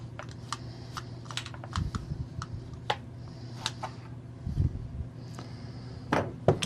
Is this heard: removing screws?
yes